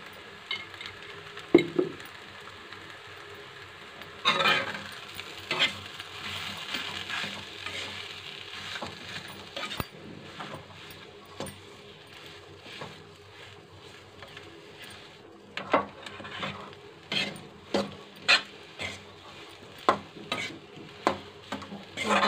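Salted spice masala for aloo paratha roasts in a pan under a steady sizzle, with spatula scrapes that turn into a regular, rhythmic series of knocks toward the end.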